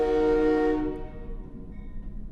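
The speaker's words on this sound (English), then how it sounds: "as the train goes by, once again" A train passes, its horn sounding loud and sustained, then fading away into a low rumble, with no talking.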